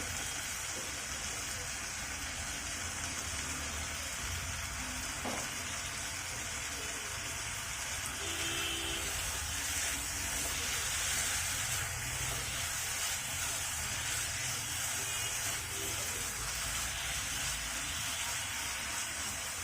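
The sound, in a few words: chicken snacks frying in a pan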